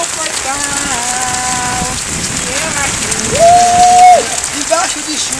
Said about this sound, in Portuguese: Debaixo dessa chuva, chuva no telhado